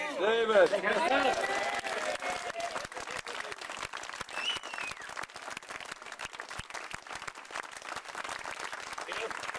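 Audience applause at a US Laser Masters sailing gathering, a dense wash of many clapping hands that is strongest at the start and then settles into steady, moderately loud clapping, with voices and harmonic tones heard early on.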